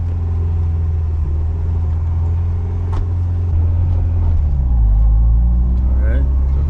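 A homemade car's engine runs and rumbles at close range as it pulls away, a deep steady drone that swells louder as it accelerates, with someone talking over it.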